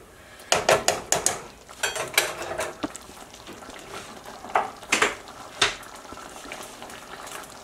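Thick gravy for paneer lababdar bubbles in a pan, with sputtering pops and bursts over a steady low simmer, a few louder splutters standing out close by. No one speaks.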